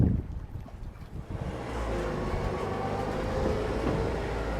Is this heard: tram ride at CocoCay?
yes